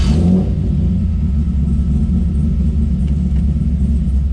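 A Chevrolet C5 Corvette drift car fitted with a hydraulic handbrake idles loudly and close, a deep steady rumble after a brief opening rev, heard alone with no talking.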